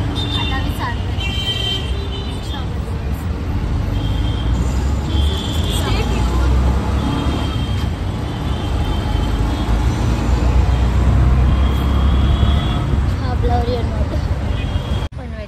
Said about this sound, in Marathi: पनवेलच्या ट्रॅफिक.